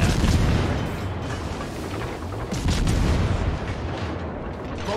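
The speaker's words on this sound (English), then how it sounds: "fire on the enemy warship." Naval guns of the Swedish destroyer HSwMS Ragnar firing on an enemy warship in a naval battle game, a dense, loud, continuous rumble of booming salvos with no clear gaps between shots.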